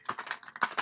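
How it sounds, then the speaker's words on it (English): Tarot cards are shuffled in a quick burst of about six crisp riffling flicks, close and fairly soft, with no talking. "Let's shuffle that one more time."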